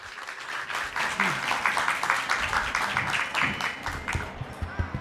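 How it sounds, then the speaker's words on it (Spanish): An audience at an Alliance Française literary talk applauds to welcome the speakers, dense steady clapping lasting several seconds with faint background murmur. "Recibámoslas con un aplauso y bienvenidos a todos"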